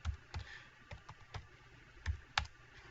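Keys tapped on a computer keyboard while a value is entered in a SketchUp house drawing, about eight sharp, irregular clicks spread across the moment, close and fairly quiet with no talking.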